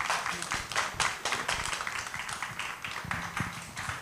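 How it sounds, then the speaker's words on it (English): Audience applause after a panel discussion on Frederiksted and cultural foods, steady hand clapping from a modest crowd that continues for several seconds. "Let's give them a big round of applause."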